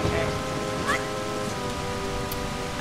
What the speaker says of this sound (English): Oh yeah, it rains on the second day.